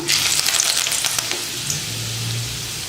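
Curry leaves drop into hot oil with fenugreek seeds and crackle, a dense spattering burst at the start that settles into a steadier, quieter sizzle, up close with no voices.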